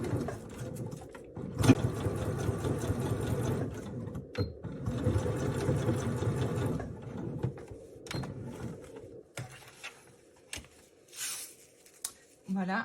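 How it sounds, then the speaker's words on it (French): A sewing machine topstitches along a zipper in bursts of rapid mechanical whirring, interrupted by pauses and handling clicks, with a person talking over parts of the stitching. "on va venir faire la surpiqûre tout le long de la fermeture éclair"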